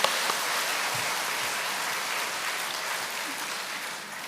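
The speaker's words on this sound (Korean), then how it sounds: "우리 다시 한번 큰 박수를 쳐주시기 바랍니다" An audience at an evening church camp service gives a big round of applause, a thick, even roar of clapping at fairly high volume that stays steady and eases slightly toward the end.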